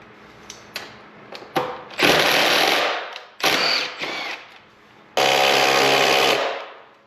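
A 10mm screw is removed from a Yamaha YZ450F dirt bike, likely with a power driver: sharp clicks lead into several loud, buzzing mechanical bursts of a second or so, with pauses between them.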